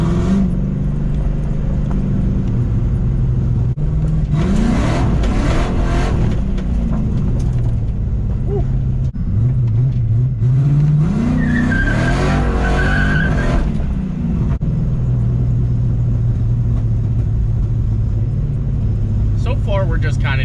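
A car out on its first drive after sitting for two years rumbles along with engine and road noise, rising in a few louder surges with tire squeal, while people talk inside the cabin.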